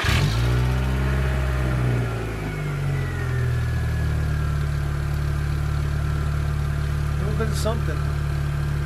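A Volkswagen Golf Mark 4 engine runs steadily at idle to heat-cycle a JB Weld repair, starting with a brief rev, then a constant low hum throughout, with a voice speaking briefly over it.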